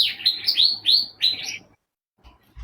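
Pet bird chirping, a run of loud, close, bright rising tweets in quick succession for about a second and a half, then quiet.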